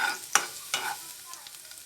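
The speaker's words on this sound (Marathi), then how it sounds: "तेल चांगलं गरम झाल्यावर मी ते लसूण घालून घेणार आहे आणि चांगलं परतून घेणार आहे." Garlic fries in hot oil in a pan for a mixed vegetable soup, with a steady close sizzle broken by a couple of sharp stirring scrapes, no voices.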